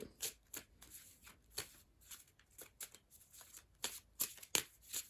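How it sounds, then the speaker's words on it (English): Tarot cards being shuffled in quick riffling bursts, a crisp papery rustle repeating irregularly, close and fairly quiet with no talking. "I'm going to give them one more good shuffle here for you."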